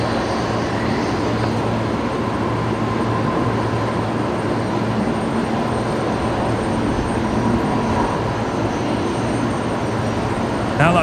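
A jet arriving on runway 19 left at Brisbane Airport, approaching from the north, produces a loud, steady engine roar that holds without a break throughout.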